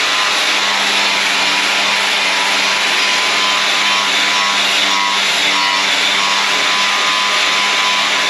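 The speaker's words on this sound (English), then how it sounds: "So, hook up the big grinder. Let's clean up the surface a little bit." A big angle grinder cleans up a steel surface while a battery access hole is cut into a Takeuchi TL12 track loader, giving a loud, steady, unbroken high-pitched whine with a constant tone and no voices.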